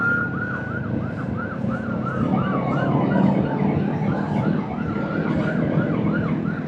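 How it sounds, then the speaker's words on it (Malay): Police siren wailing in a steady repeating up-down sweep, mid-distance, heard over a continuous low rumble of traffic and motorcycle riding noise on a Kawasaki Z650RS. "siren dari polis."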